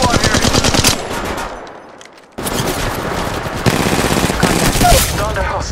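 Rapid automatic gunfire from the Apex Legends Mobile battle royale game, loud and dense bursts that pause briefly near the middle before resuming at full intensity to the end.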